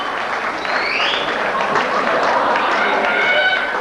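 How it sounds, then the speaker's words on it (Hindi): An audience at a film stars' night event claps in a dense, continuous burst lasting several seconds, with a few whistles and crowd noise over the clapping. "जोरदार तालियां"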